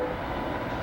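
An eastbound grain freight train led by a C40-8, with Norfolk Southern SD60 and C40-9W locomotives, gives off a steady, dense rumble that sounds fairly close and fills the whole short stretch.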